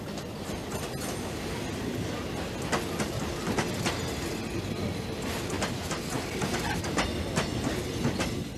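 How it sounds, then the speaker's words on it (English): A train near the South African frontier in Mozambique runs steadily along the rails, a continuous rumble with repeated clickety-clack wheel knocks, moderately loud and close. "trains still carry Mozambican workers to and from the gold mines of South Africa"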